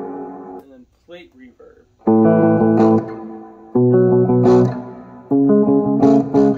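Three bursts of clean guitar chords through an Orange Crush Pro 120 amp head, each ringing out with a bright, shimmering plate reverb tail; a voice talks briefly before the first strum.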